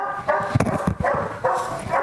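A Malinois dog on a breeding farm barks in a close, loud run of several sharp barks with short whines between them, and no one speaks.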